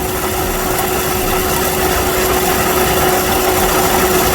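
A car engine idles steadily with its AC compressor running, on a vehicle whose compressor clutch will not stay engaged. A close, continuous hum with a faint constant tone stays even throughout, with no voices.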